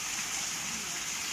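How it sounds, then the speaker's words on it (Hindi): Rain falls steadily outside a home, a brief, even wash of close patter and hiss with no voices. "तो जी आज हो रही है हमारे इधर बारिश"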